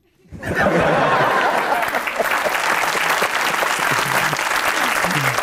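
A studio audience at a Pakistani comedy talk show bursts into loud, sustained applause that starts abruptly and continues steadily, mixed with some laughter and a few voices.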